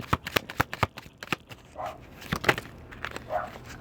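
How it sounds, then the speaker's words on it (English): Tarot cards being shuffled by hand, a run of crisp riffling snaps and flicks in an irregular rhythm, close and fairly loud, with a couple of softer sliding rustles between bursts. "I never really shuffle like this."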